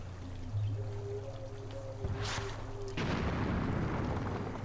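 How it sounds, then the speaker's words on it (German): An explosion in the video game Exodus From The Earth, a deep rumbling boom that erupts midway and swells into a sustained roar over steady background tones, with no speech. "Na, irgendwo explodiert einfach irgendwas."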